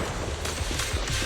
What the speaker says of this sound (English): Watch out for Grim Vulture taking shots from afar.